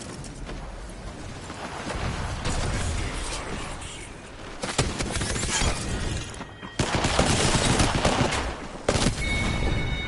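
Rapid gunfire in Apex Legends, dense bursts and sharp shots in a loud, continuous barrage with brief pauses, mixed with in-game effects and a voice talking over it.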